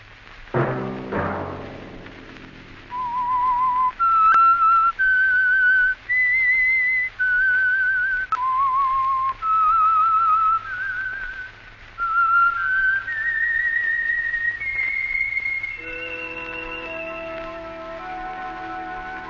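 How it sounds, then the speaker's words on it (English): Someone whistles a slow, clear melody, sustained notes rising and falling over a soft musical backdrop, ending as instruments take over. "Let that whistle be your signal"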